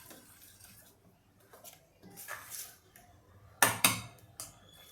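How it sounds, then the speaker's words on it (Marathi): Dhirde batter is whisked in a bowl, with soft intermittent strokes and clinks of the utensil against the bowl, two sharper taps near the end, quiet and close, no talk. "थोडंसं याला जरा फेटून घेते"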